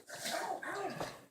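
A dog gives a short, close, fairly faint vocalization, a quick bark that bends into a whiny yip, lasting just over a second with no other sounds around it.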